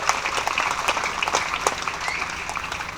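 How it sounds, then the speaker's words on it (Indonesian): An audience at a church building inauguration in Alor Timur applauds Pak Ruben Netidena, with dense, even clapping that fills the room loudly and continuously for the whole stretch, with no speech over it. "Tepuk tangan untuk Pak Ruben Netidena."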